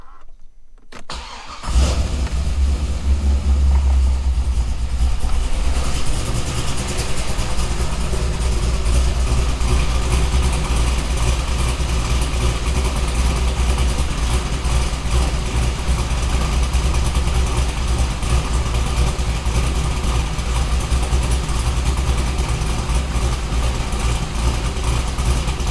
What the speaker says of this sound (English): told you the car was cammed and never let you hear it